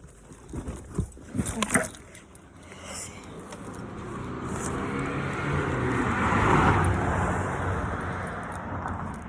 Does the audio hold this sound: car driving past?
yes